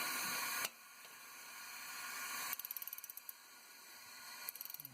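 A ratchet socket wrench cranks down on an LT1 engine, used with a Tim's Tool. Quick bursts of sharp, close metallic clicks come in rapid rhythmic runs, with no talking.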